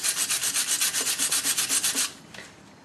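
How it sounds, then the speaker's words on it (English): A wire brush scrubs stainless steel brake hardware on a 2011 Chrysler 200's front brakes in quick, even back-and-forth strokes, about a dozen rasping passes close up, then stops with a couple of faint scrapes. "We're going to go in here with a wire brush."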